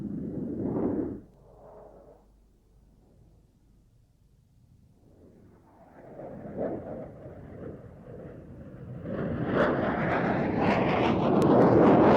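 Twin-turbofan military jet with two 32,000-pound-thrust engines at an air show, roaring in after a quieter stretch and swelling into a loud, broad jet rumble that builds steadily toward the end.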